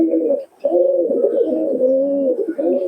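Pigeon cooing at close range, a steady run of low, throaty rolling coos with one brief pause, loud and alone without talk.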